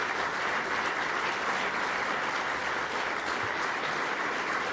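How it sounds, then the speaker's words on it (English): A large banquet crowd applauds at the LPGA awards, a dense, continuous roar of clapping that stays level and loud throughout with no break and no voices on top. "Keep that applause going."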